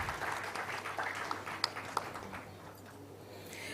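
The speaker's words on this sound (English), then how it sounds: "Can we have a round of applause for Mr. Abang?" A short burst of audience clapping at a food regulators summit as a panelist from Brunei's food authority is welcomed, a few sharp claps standing out before the applause thins and fades within a few seconds.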